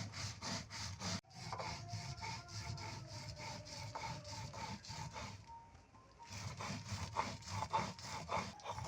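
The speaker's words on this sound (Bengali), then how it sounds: "আমি সব মশলা মরিচ এই মশলা একসাথে বাইটা নিব" Fried spices and chillies being ground by hand on a grinding stone in a village kitchen, a steady rhythmic back-and-forth scraping stroke repeating quickly and evenly, with a short pause partway through.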